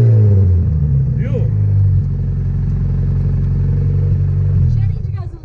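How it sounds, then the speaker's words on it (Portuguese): A car engine runs at close range with a steady, heavy low rumble and a slight rise early on before easing off near the end, while voices are heard around it. "Eu devia dar uma ligada pra você ver o barulho desse carro."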